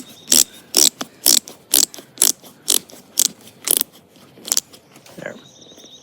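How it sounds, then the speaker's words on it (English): The lace knob on a Korkers Devil's Canyon wading boot ratchets as it is turned clockwise, giving about nine crisp, evenly spaced clicks close up, followed by a softer mechanical rattle. "So basically to tighten it, you're going to rotate clockwise,"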